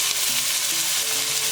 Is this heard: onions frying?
yes